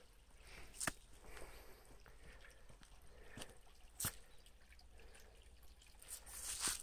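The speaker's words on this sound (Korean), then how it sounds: "아, 이거 물소리는 졸졸졸졸." Faint water trickles steadily in the background of a rural Gangwon Province setting, with a few soft drips and splashes standing out now and then.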